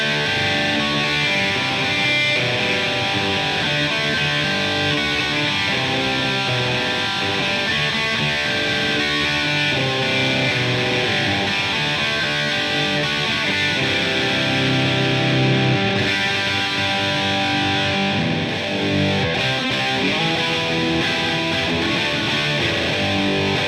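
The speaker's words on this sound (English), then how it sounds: "I'll give you some bridge pickup, some chords, some strumming, some cowboy stuff so you can sort of hear the articulation of the Super Distortion pickups" Heavily distorted electric guitar chords and strumming played through a Super Distortion bridge pickup, dense and loud, ringing continuously with little pause.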